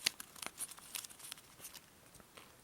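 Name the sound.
paper being folded for an origami horsefly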